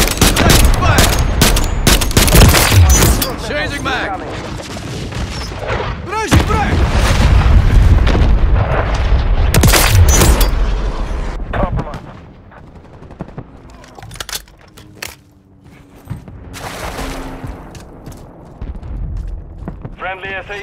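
Heavy gunfire and explosions in the video game Call of Duty, with bursts of automatic fire and booming blasts densely packed through the first half, then thinning to scattered shots and distant rumbles.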